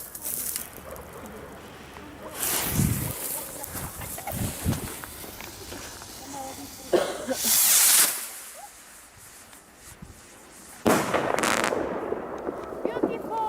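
Fireworks and firecrackers are set off outdoors in the run-up to New Year's Eve, with several sharp loud bursts and crackling hisses at irregular intervals, separated by quieter stretches with footsteps and brief talk.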